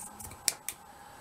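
Paper being cut with large scissors while cutting out a doily, two short crisp snips sounding close and fairly quiet against a faint background.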